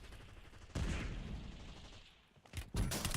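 Sniper gunfire in a Call of Duty match comes as a loud close blast followed by sustained rumbling noise, then a couple of further sharp shots near the end, with no voices over it.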